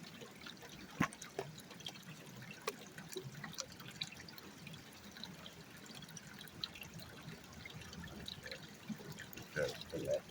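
Water sloshes and trickles quietly as a gold pan is swirled on a gravel bar of the Wild Ammonoosuc River, flushing out light gravel and black sand with soft drips and splashes under a faint voice.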